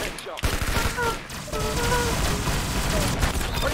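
Rapid gunfire from a video game shooter match, a dense continuous burst of shots close and loud, with game sounds layered underneath.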